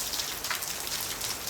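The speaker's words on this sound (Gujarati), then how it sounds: "જો કેટલો વરસાદ પડ્યો છે." Heavy rain pours steadily outside, a dense broadband hiss of drops striking surfaces with no voices, filling the whole short stretch at an even level.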